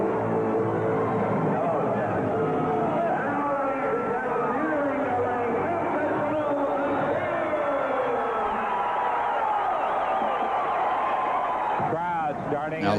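A wrestling crowd chants and cheers loudly at a heavyweight title event, a dense sustained roar of many voices with rising whoops, heard continuously from within the arena.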